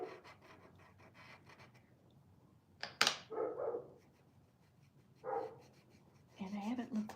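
Someone talks while a dog lets out a few scattered barks nearby, with a sharp knock and rubbing sounds mixed in.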